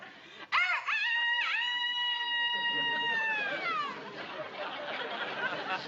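A voice imitates a rooster's crow, a loud drawn-out cock-a-doodle-doo with wavering pitch, followed by a short stretch of noisy background.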